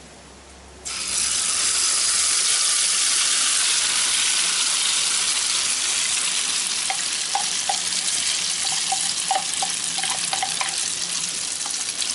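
Egg mixture with chives, garlic and chili dropped into hot boiling oil, bursting into a loud, steady sizzle that holds close and constant, with a few light crackles and pops later on.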